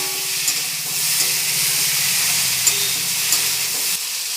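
Sizzling and frying in a pan as fried dried fish goes into a simmering potato curry, a steady hiss with soft stirring scrapes, close and continuous with no talking.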